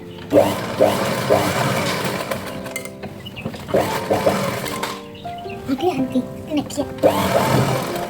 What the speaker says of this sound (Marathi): पूर्ण साईडला आपण अस्तरला शिलाई करून घेणार आहोत तर इथे मी आता शिलाई करून घेते